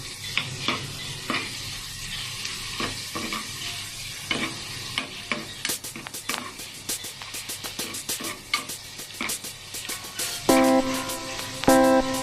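Ingredients sautéing in a pan for a white creamy cheese pasta sauce, with a close sizzle and rapid rhythmic scraping and tapping of a utensil, getting busier and louder toward the end.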